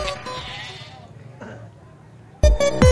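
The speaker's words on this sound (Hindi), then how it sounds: "इनके पास ये बड़े अच्छे बड़े बड़े बकरे हैं" Goats at the Shahpur livestock market in Lahore, sold for Qurbani, let out loud, close bleats near the end, after a stretch of quieter crowd noise and murmuring voices.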